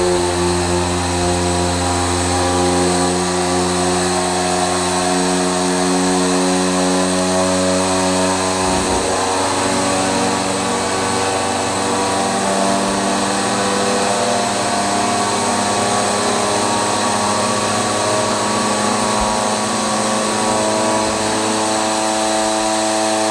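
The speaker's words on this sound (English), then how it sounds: "this is a pneumatic lift table" An air-operated pneumatic lift table with a 1000 lb capacity and unusually high lift runs after a foot pedal press, giving a loud, continuous drone with a steady tonal hum throughout and a brief dip in the low end partway.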